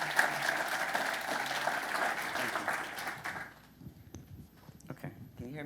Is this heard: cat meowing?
no